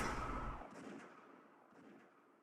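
A single gunshot sound effect in the visual novel Umineko, a sharp low blast at the start that decays into a fading rumbling echo over about two seconds.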